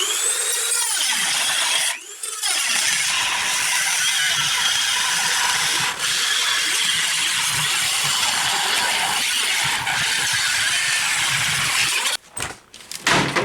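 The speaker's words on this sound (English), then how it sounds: "Make sure to stay within this line right here so you can just touch up the rest with your Dremel." A Dremel rotary tool cuts the plastic grille of a first-generation Toyota Sequoia TRD Pro for a grille conversion, giving a loud, continuous high grinding whine. It breaks off briefly near the start and cuts out in stutters near the end.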